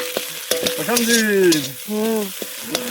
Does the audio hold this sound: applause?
no